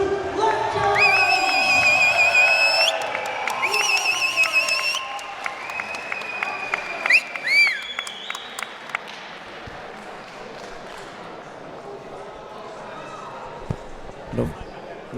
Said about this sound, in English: Another standing ovation from the crowd.